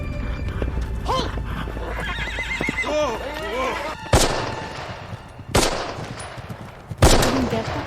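In a Band of Brothers war scene, a horse whinnies repeatedly amid hoofbeats. Then three sharp, loud gunshots crack at intervals over a busy background that includes voices.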